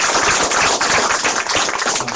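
An audience breaks into dense, sustained applause at a taxi workers' union meeting with a presidential candidate, the loud clapping filling the room without pause.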